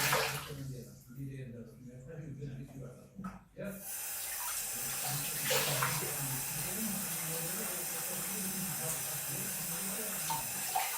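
Tap water runs while a face mask is washed off the cheeks. A voice and quieter sounds open the clip, then a loud, steady rushing stream fills the rest without pause.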